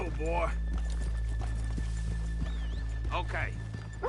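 Horses' hooves clip-clop at a walk in Red Dead Redemption 2, a few soft hoofbeats and a brief whinny over a steady low hum, with voices talking on top.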